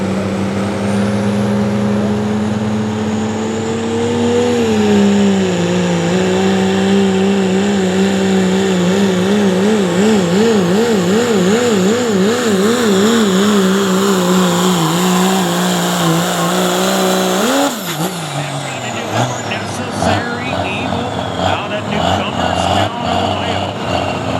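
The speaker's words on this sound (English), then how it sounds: "Driving a 1945 Dodge Power Wagon. It's a beautiful truck." A 1945 Dodge Power Wagon truck roars at an Ohio truck pull, its engine climbing in pitch and wavering under load before cutting off sharply, loud and close with a voice over it.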